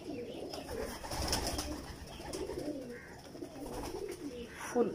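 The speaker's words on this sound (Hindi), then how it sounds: "ये कबूतर है माशाल्लाह।" Heera lal pigeons coo softly and repeatedly amid a busy, noisy background, with faint voices now and then.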